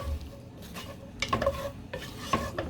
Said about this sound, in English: we're going to saute it in the hot butter